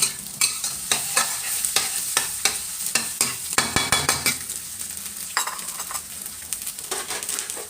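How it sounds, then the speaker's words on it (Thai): Egg being stir-fried in a pan with zucchini nearby, a utensil scraping and clacking against the pan in quick repeated strokes over a steady sizzle, then scooped out, close and fairly loud with no talking. "ค่ะเราก็จะได้ไข่ที่ผัดไว้แบบนี้ก็ตักขึ้นพักไว้เลยจ้ะ"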